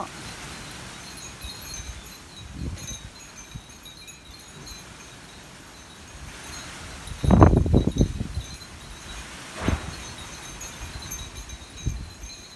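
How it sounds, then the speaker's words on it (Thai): Strong storm winds thrash a taro patch in a passing wind and rainstorm. The leaves rustle and hiss unevenly, and a louder gust surges through the middle before easing off, with further smaller bursts later. "จะทนแรงลมได้ไหม"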